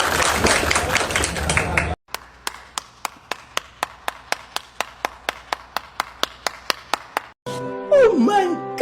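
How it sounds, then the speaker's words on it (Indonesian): A burst of group clapping opens, then a long run of single sharp claps at a steady, even beat, ending as voices break in with excited exclamations. "Beri tepuk tangan untuk semua."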